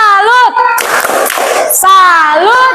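An elementary school class does a 'tepuk salut' rhythmic salute clap: a short burst of many hands clapping together, lasting about a second, set between children's chanted voices before and after.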